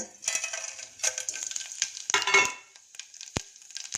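Mustard seeds, chana dal, cumin and fenugreek spluttering in hot oil, a close run of sharp crackles and pops in irregular bursts, with quieter gaps between them.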